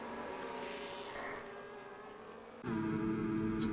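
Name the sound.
F1 car engine at Monaco in a video game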